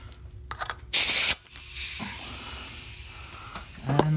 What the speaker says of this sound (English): So let's spray some soapy water.